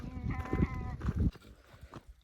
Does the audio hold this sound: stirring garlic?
no